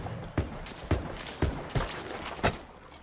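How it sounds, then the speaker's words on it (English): Gunfire in the Halo Infinite campaign: five sharp, separate shots spaced irregularly over about three seconds, each a loud broadband crack with a low thump, over a steady hiss of background noise. "Who's shooting me?"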